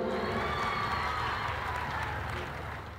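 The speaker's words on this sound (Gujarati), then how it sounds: "એમને એક વખત જોરદાર તાળીઓથી વધાવો" A live concert audience applauds the tabla accompanist, a dense wash of clapping from a crowd that holds steady and then eases slightly toward the end.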